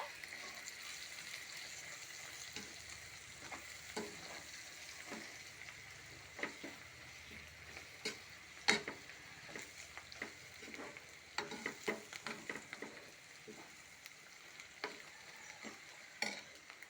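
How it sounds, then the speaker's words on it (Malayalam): Ingredients for an onion theeyal (a Kerala curry) are stirred in a pan with salt added, with the spoon giving repeated scraping taps at an irregular rhythm over a steady soft sizzle. "കുറച്ച് ഉപ്പ് ഒഴിച്ച് കൊടുക്കുക എല്ലാം കൂടെ ഒന്ന് യോജിപ്പിക്കുക"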